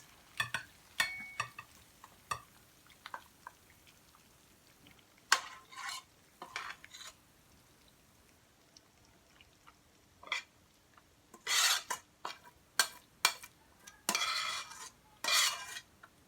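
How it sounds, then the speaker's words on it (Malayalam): A spoon stirs beef varattiyath and scrapes it into a serving bowl: scattered metallic clinks and scrapes, sparse early then clustering into louder bursts of clatter, over a quiet background. "ഇതാ നമ്മുടെ ഈ സെർവിങ് ബൗളിലേക്ക് നമുക്ക് ഈ ബീഫ് ഇങ്ങനെ ഒഴിച്ചു കൊടുക്കാം"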